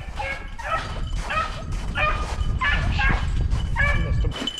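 Hunting dogs chasing a snowshoe hare let out a run of close, excited yips, barks and whimpers, overlapping in bursts over a low outdoor rumble.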